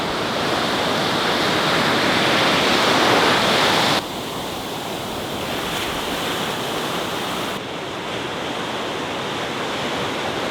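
Ocean waves rolling onto a beach at sunrise, a broad continuous wash of surf with a loud surge early on, then a steadier, slightly softer roar with no voices.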